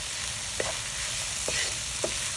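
Green bell peppers (Shimla mirch) half-fried in a curry pan sizzle steadily while a spoon stirs them, giving three distinct scraping strokes over the continuous frying hiss. No voices.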